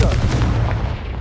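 A Confringo spell explodes in Hogwarts Legacy, a deep, heavy boom with rumbling low end that decays over about a second.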